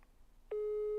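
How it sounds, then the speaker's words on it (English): Telephone busy signal during a live prize draw, one steady tone starting abruptly halfway through after a brief earlier beep, loud and alone when a call fails to get through. "his phone is engaged. Couldn't even break through."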